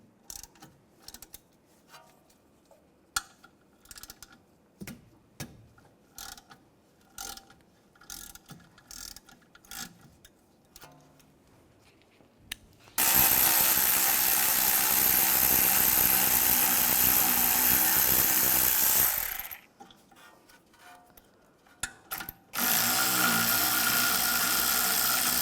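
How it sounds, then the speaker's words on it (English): A 7mm hex socket spinning out caliper slide bolts on a 2004-2010 BMW X3, scattered ratchet clicks and taps at first, then a long loud continuous whirring burst, a short pause and another sustained whir, close up with no talking. "Now I'm going to use a 7mm hex socket. Take these bolts out."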